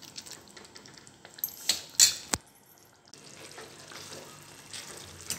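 Guar bean pods cooking in a pan for a traditional bhaji, with soft sizzling and stirring scrapes, a few louder spoon clatters near the middle, then a steady low frying hiss alone.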